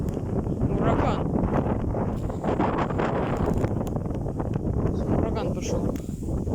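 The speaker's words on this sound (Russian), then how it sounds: "Ураган пошел." Strong storm wind gusts of about 23 metres per second roar across an open field with trees, a loud continuous buffeting rush that batters the microphone throughout.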